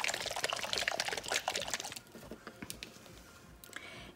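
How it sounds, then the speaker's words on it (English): A small container of pink craft paint is shaken hard, giving rapid, close rattling and sloshing for about two seconds before it fades to quieter scattered clicks. "Now you want to shake your paint up really good."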